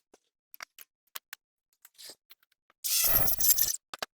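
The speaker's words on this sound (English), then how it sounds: "we're gonna keep on moving along and cut some soffit" An aluminum soffit panel is cut, starting with scattered sharp clicks and snips, then a loud harsh rasping cut lasting about a second, followed by a few more ticks.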